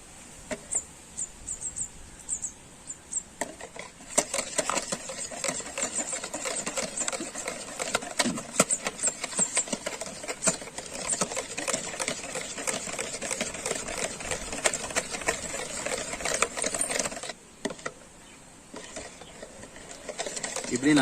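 An electric hand beater whips oil into homemade mayonnaise, a steady buzzing whir that runs for about twenty seconds with small rattling clicks against the bowl, fairly close, with no talk over it.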